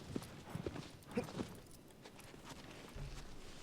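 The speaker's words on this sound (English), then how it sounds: "I tell the horse to stop fucking moving, and it won't stop fucking moving" Faint, uneven clip-clop of horse hooves in the video game Shadow of the Colossus, several scattered footfalls over quiet ambience ending in a low rumble.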